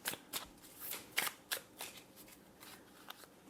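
A deck of Fall in Love oracle cards with gold trim being shuffled, giving a run of crisp riffling flutters and soft slaps in irregular bursts, close and fairly quiet with no talking.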